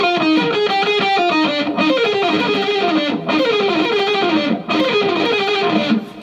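Distorted electric guitar plays a lick at a slow tempo, loud repeating cascades of picked notes in several descending phrases separated by brief breaks.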